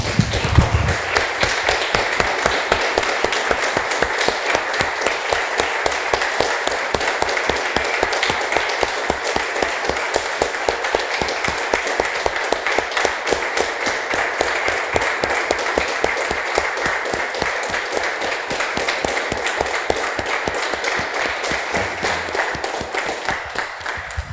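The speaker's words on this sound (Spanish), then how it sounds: "Damos un aplauso, hermanos, al Señor." A church congregation at a worship service claps rhythmically in unison, a steady, loud beat of many hands sustained for over twenty seconds without pause.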